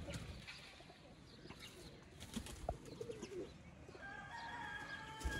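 Sialkoti pigeons coo softly amid steady background noise, with a few brief tonal calls and chirps rising near the end; no one speaks.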